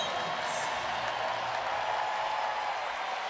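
A record-setting crowd of over 11,000 at a Pro Volleyball Federation match in Omaha roars and applauds on its feet, a dense, steady wall of cheering that fills the arena throughout.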